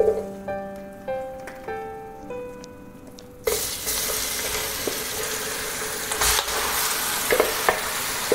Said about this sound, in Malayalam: നമ്മളിതിലേക്ക് മാരിനേറ്റ് ചെയ്ത ചിക്കൻ ആഡ് ചെയ്ത് കൊടുക്കുക.